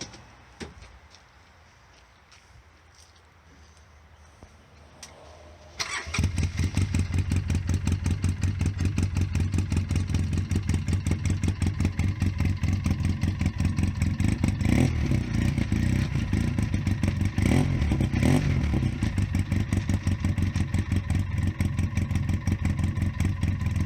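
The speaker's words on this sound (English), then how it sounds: "let's give it a cold start because we still haven't started it, so let's start her up" A 2014 Polaris RZR 4 800 side-by-side cold-starting after a few quiet seconds, then running close and loud with a steady, clattery idle and slight rises in the engine.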